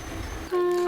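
A train departs a station near Peralam on the Velankanni to Mayiladuthurai line, its steady tonal whistle or horn rising abruptly partway through and holding loud over low rumbling.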